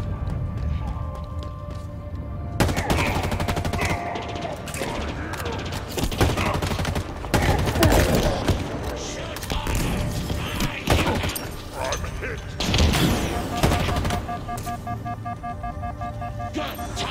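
Rapid bursts of assault rifle fire in the Halo Infinite multiplayer map Conservatory, loud and close, repeating in dense volleys with brief pauses, mixed with game effects throughout.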